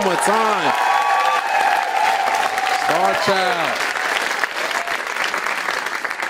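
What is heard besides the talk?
audience applause at dance event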